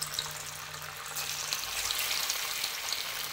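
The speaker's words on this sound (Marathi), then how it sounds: "आता मी एक एक वडी त्याच्यामध्ये टाकून तळून घेणार आहे।" Cabbage vadi fritters fry one by one in hot oil in a kadhai, making a loud, dense, continuous crackling sizzle up close that swells slightly partway through.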